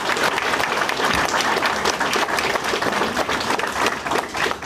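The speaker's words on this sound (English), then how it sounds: "let's have one more round of applause for those guys and ladies" Sustained applause from a crowd at a graduation ceremony, dense and steady clapping filling the whole stretch at a loud, even level.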